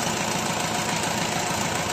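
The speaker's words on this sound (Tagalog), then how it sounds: "Maganda pa ang tunog ng makina." Engine of a grain mill running, freshly serviced with new oil and gear oil, a loud steady close-up drone with a continuous rapid mechanical knock and broadband rattle, no voices.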